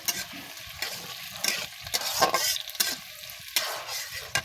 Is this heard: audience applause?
no